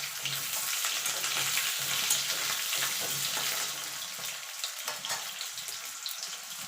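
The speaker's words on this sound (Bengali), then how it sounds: "আলুগুলোকে ছেড়ে দিয়ে আলুগুলোকে একটু লাল লাল করে ভেজে নেব।" Potato pieces fry in hot oil for a dahi aloo dum, giving a dense, continuous sizzle close by that eases slightly in its second half, with occasional faint stirring scrapes and no voices.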